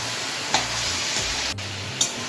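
Capsicum pickle with spices and ground coriander being stirred in a pan, giving a steady frying sizzle with a few soft scrapes of the spoon at regular intervals, close by, with no talking.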